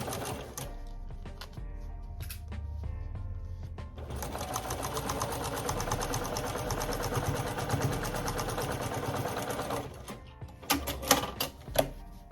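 A sewing machine stitches African print fabric for a kufi in one continuous, fairly quiet run that stops toward the end, followed by a few sporadic knocks and handling noises.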